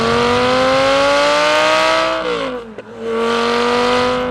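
A loud sports car engine revs up in a steady rising drone, drops briefly as it shifts, then climbs again, close and alone without voices.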